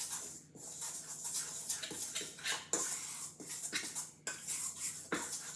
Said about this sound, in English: we're just going to stir in our dry ingredients and set that aside